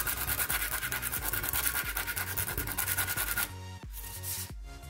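Rapid back-and-forth scratching of sandpaper rubbing a piece of amber by hand, steady and close, shifting to a slower, lighter rhythm near the end.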